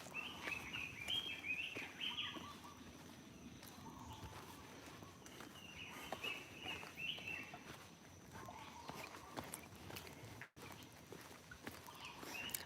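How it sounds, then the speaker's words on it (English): Several birds sing in short trilling phrases in the distance, with footsteps crunching on the ground throughout. "I know the birds they always sound so pretty."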